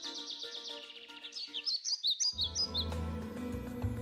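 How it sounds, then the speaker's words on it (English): Small birds chirp and tweet in quick bright bursts, a lively run of high calls, then a low hum fills the background. "The world got noisy when God made the birds."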